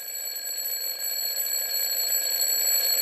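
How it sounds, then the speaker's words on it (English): A basic electronic alarm rings continuously, a steady high-pitched tonal buzz that holds at an even, fairly loud level throughout, with no talking. "From afar, a basic alarm was heard."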